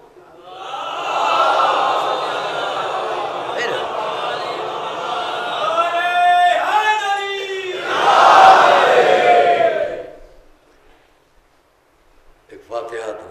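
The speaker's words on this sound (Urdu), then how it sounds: "ابھی ایک نعرہ لگائیے پھر آپ دیکھیں ہم بے قابو ہیں" An audience at a religious majlis shouts a slogan together in loud, massed voices, two surging chants with a brief gap, then a short quiet before a single voice begins.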